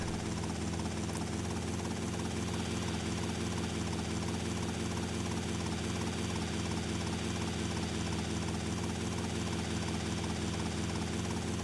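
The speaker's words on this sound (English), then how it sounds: "I don't want to lose my helicopter, so I'm kind of gonna make sure I land this." Helicopter in Grand Theft Auto: Vice City flying and coming in to land, its rotor and engine a steady, dense drone that holds throughout at constant loudness, close and without any voices.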